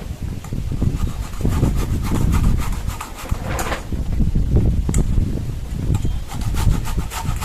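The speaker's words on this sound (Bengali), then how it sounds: "দেখুন গ্রেট করছি তো একদম কিন্তু এরকম ঝুড়ি ঝুড়ি হয়ে যাচ্ছে।" A head of cabbage is rubbed hard against a hand grater, producing repeated, close, rasping strokes in an uneven back-and-forth rhythm with brief pauses between passes. No one speaks.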